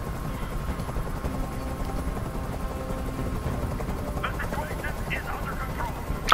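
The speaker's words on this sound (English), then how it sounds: "I can't stand that noise anymore. Tell that helicopter to get out of here." A helicopter in the video game Detroit: Become Human drones steadily with a low, continuous rotor rumble throughout, with faint mechanical clicks and game effects near the end.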